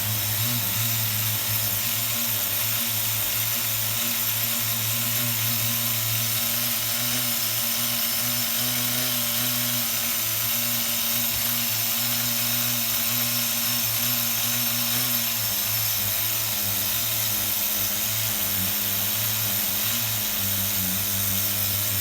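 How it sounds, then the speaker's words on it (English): An HPI RS4 nitro RC car engine, a small glow-fuel motor in a bench tune that has sludge in it, idles close up with a steady buzzing drone and a slight shift in pitch partway through, no voices. "Let's just sit here and not touch nothing for a second, and you'll listen to the idle rise up."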